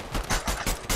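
Repeated loud sniper rifle shots in Fortnite, several sharp broadband cracks in quick succession with game noise between them, close and dense.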